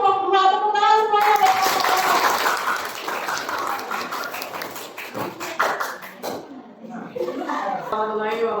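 An audience at a teacher-training session claps together for a presenting group, a dense burst of applause lasting several seconds, with a voice speaking just before it and again as it fades.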